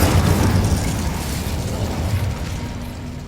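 An Incendio fire spell bursts out in the Hogwarts Legacy video game, a loud whooshing blast that starts strong and gradually fades over a few seconds.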